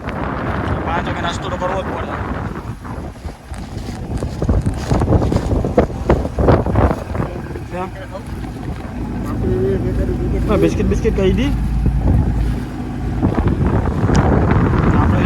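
Steady wind at sea buffeting a fishing boat off Porbandar, a loud rushing roar with gusts rising and falling throughout while someone talks over it.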